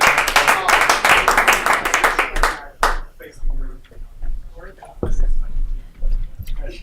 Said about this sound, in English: Give him a round of applause, yes.